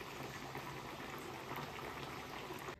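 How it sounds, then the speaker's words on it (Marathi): Sorghum millet kachori frying in hot oil over a very low flame, a steady, soft, close bubbling sizzle that continues evenly without voices. "अजून एक मी सोडते तेलामध्ये आणि अगदी मंद गॅसवरती आपण ह्या तळतोय"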